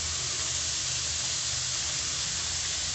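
Chopped onions fry in a hot pan for chicken chow mein, a steady close sizzling hiss holding at an even level throughout with no pauses.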